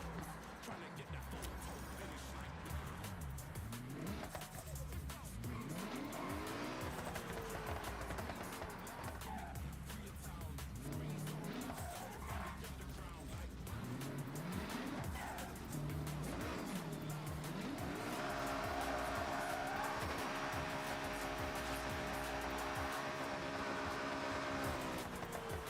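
A car from Forza Horizon races with a steady engine drone, and tires squeal through the corners. Near the end the engine climbs to a higher, sustained whine, while a voice talks over the game sound.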